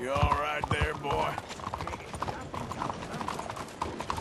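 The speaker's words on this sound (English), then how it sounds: "just having fun with our horse" Horse hooves clip-clop steadily on the ground in Red Dead Redemption 2, with a voice over the first second and game ambience behind the close, continuous footfalls.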